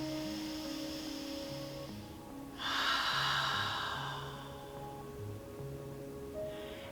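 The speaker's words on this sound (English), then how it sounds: "Take a deep breath here." During a hip-opening yoga stretch, one deep audible breath rushes in and out for a little over a second, midway through, over soft background music.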